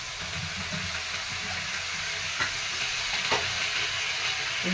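Drumstick leaves are stir-fried in oil, producing a steady hiss of frying with a few soft stirring scrapes, moderately close and constant throughout.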